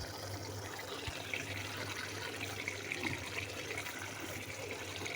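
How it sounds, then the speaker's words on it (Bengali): Water being added to a pan of fish curry cooking in a home kitchen, a steady low splashing and trickling pour that runs continuously and evenly throughout, with no talking. "একটু পানি দিয়ে দিছি"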